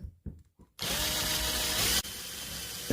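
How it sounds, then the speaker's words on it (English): A power drill bores holes through the plastic bottom of a kayak, a steady close whine lasting about a second before shifting to a lower hum, following a few light taps. "then I drilled the holes in the bottom of the kayak"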